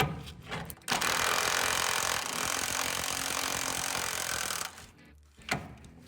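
A pneumatic impact gun works on a very rusty, week-soaked bed bolt of a Toyota pickup truck, a loud sustained buzzing hammer of about four seconds, bracketed by short bursts and brief pauses, close up with no voices.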